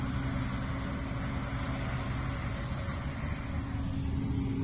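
Low, steady rumble of harvest machinery working outside, a constant distant drone with no clear breaks, muffled as if heard from indoors.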